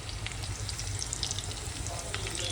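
Red chillies, garlic and a pinch of asafoetida frying in hot oil in a pan, giving a steady, close, dense sizzle with light crackles and no talking.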